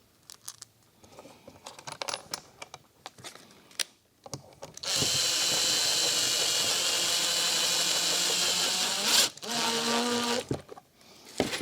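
Power tool whirring steadily for about six seconds, an impact driver running bolts back into a BMW door panel during a custom Alcantara interior job, preceded by softer clicks and handling noise and followed by short bursts.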